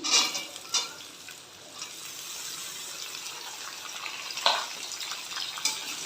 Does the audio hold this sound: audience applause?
no